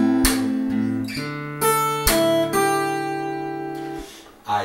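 Solo fingerstyle guitar working through measure 31 of a song, a bass open string under plucked higher notes with sharp percussive slaps between them, several notes ringing and decaying in a steady rhythm.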